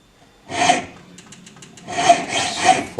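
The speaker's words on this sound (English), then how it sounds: "the grooves that we filed before are easily picked up by the needle file" Needle file rasping across a scalloped metal dagger spacer, close up, in two short bursts of back-and-forth strokes, the second burst longer, with a few light scrapes in between.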